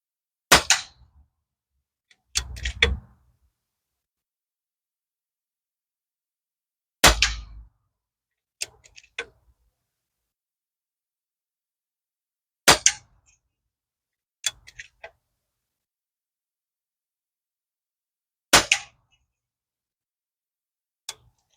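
Pinty P-Rifle air rifle firing at cans, sharp isolated cracks, some with a faint metallic ping after, spaced several seconds apart across a quiet background.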